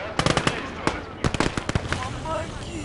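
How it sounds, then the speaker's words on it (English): Pistol shots from medics in a hardcore conquest war video game on the Eastern Front, a burst of sharp cracks and pops in irregular clusters with some louder near shots, over constant battle noise. "And the medics are firing their pistols"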